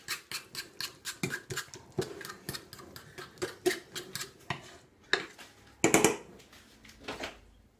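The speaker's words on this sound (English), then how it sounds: "So with a fork, get that custard mixed up, just to get it all pliable again." A fork whisks set custard in a bowl for a trifle, giving a quick run of light metallic clicks and taps that keeps a steady, uneven rhythm, close and fairly quiet.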